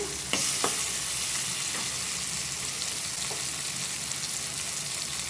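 Spices, cumin, small onions and peanuts frying in a pan, a continuous close sizzle with a couple of sharp stirring clicks near the start.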